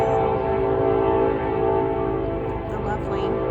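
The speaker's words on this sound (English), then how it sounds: "The lovely train horn." A long, steady train horn blows loud and near through the whole stretch, a sustained tonal blast over rumbling rail noise with no pauses.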